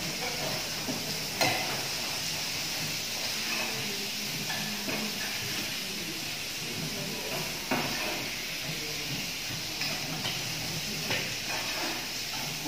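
Vegetables stir-fried in a pan without oil during a healthy cooking demo, giving a steady soft hiss and steam with faint scraping stirs and a few light clinks throughout.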